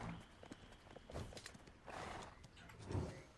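A horse in the video game Black Desert Online trots along with clip-clop hoofbeats and a possible whinny, faint and somewhat distant, in a quiet scene.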